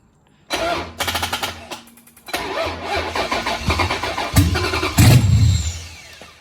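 A 6.1 Hemi V8 with a FAST Fuel V1 controller and Hemi6 ignition, on a weak battery backed by extra batteries and a charger, cranks in uneven bursts, then catches and roars loudly and close.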